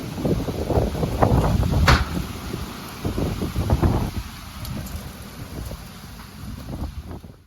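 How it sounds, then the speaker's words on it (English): Heavy rain at night in Leakey, Texas, a dense, steady hiss with gusty rumbling swells and one sharp crackle, close and fairly loud. "those raindrops picked up pretty quick within 5 minutes, and it rained hard till 3 a.m."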